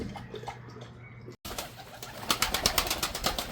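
Outdoor birdsong with soft cooing and chirps, faint at first, then a brighter stretch of repeated rhythmic calls close by.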